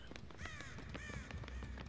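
Carmina Mora's crows in Dead by Daylight cawing in a rapid flurry of harsh calls, fairly close, over a busy low rumble of game ambience.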